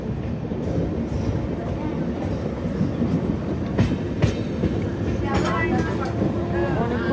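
Kirandul Express passenger train running on the Vizag to Araku line, a constant loud rumble and rattle of carriages on rails with occasional clicks, heard from inside.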